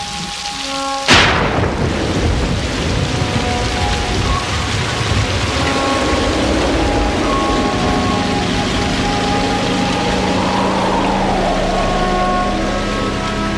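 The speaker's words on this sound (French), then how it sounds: "la pluie arrive enfin." Monsoon rain and thunder over the Mekong: a sharp thunderclap near the start, then a steady, dense downpour hissing loudly throughout with no voices.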